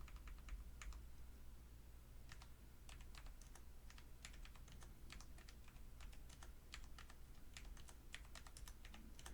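Steady clicking of fingers pressing calculator keys during a math lesson, quiet and irregular taps over a constant low hum, with no talking.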